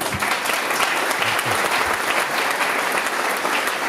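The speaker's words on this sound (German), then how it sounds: "klatschen Sie mit mir unseren Ewald Reiter ein" An audience claps steadily for a man being honored with a congratulation on his new book, a dense, even wash of applause filling the room without pause.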